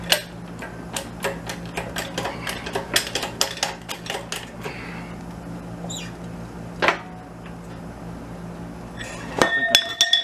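A Harbor Freight engine hoist is pumped rapidly to bleed air, producing a fast run of sharp metallic clicks and clinks up close, thinning out midway before a few final louder clanks.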